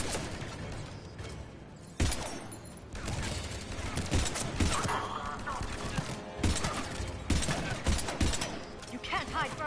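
Bursts of video-game gunfire crackle in rapid volleys through much of the stretch, with loud shots and mechanical clatter repeating, mixed with some talking.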